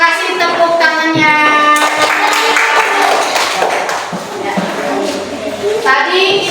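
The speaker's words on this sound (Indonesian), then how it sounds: "Terima kasih, tepuk tangannya." Children in a classroom clapping together, a loud broadband patter lasting several seconds while young voices call out over it.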